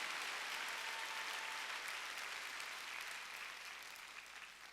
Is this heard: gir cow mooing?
no